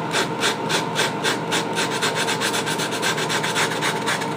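A mouse detail sander smooths the coarse bottom edge of the rudder on a 7.4-foot MD-80 RC EDF airliner model, giving a close, loud, steady rasping buzz with a rapid rhythmic pulse and no speech.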